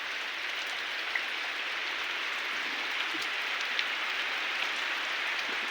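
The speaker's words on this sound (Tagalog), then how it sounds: "Pag ganitong naulan." Rain falls on a plastic roof, making a dense, steady hiss with scattered faint drop taps throughout and no voices.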